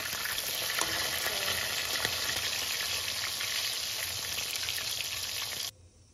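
Pieces of fish frying in hot oil in a pan, a loud continuous crackling sizzle close up that cuts off abruptly near the end.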